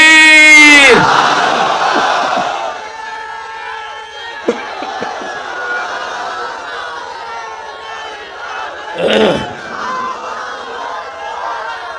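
A large crowd at a religious sermon roars a loud unison takbir chant that fades into a murmuring hall, with a second shorter shout swelling a few seconds later.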